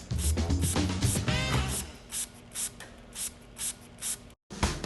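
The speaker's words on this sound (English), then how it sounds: "Is that disinfectant? Yep. Spray away." Disinfectant being sprayed in short bursts, roughly five quick hisses at a steady rhythm after a busier noisy opening, close by and fairly quiet.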